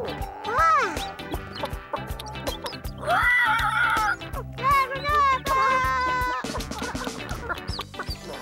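Chickens clucking and squawking nearby, with a higher whinny-like call in the middle, over a faint steady background.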